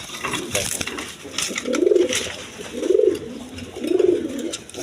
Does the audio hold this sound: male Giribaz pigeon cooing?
yes